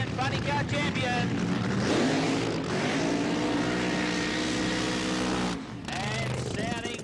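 A funny car blasts down the drag strip at the 1988 All Aussie Funny Car Challenge, its engine a loud, sustained roar with rising harmonic tones, briefly dropping near the end, while a commentator talks over it.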